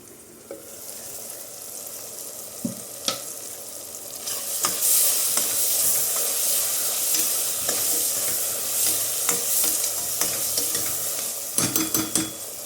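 Onions cooking for a mutton drumstick curry in a pot with its lid partly on, giving a steady sizzle that swells after a few seconds, with occasional utensil clinks and taps near the end.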